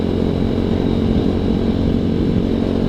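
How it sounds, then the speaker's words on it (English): A ZS190 Grom clone motorcycle being ridden and downshifted with no slipper clutch, its engine giving a steady, close, loud drone throughout, with no distinct tire skid standing out. "I don't think this bike has a slipper clutch in it, so when I downshift, it'll skirt the tires a little bit"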